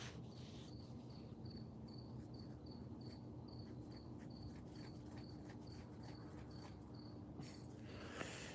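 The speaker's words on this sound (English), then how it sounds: "Wonder if those foxes will eat all the crickets around here and I won't get any more cricket noises." Crickets chirp steadily at night in a quiet neighborhood, a regular pulsing trill repeating throughout over a low background hum.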